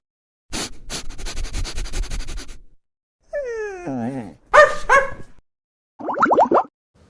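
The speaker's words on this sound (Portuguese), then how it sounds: "Cachorro." A dog barks in a few short, close bursts, with whining, whimpering yelps between them, each call separated by brief silences.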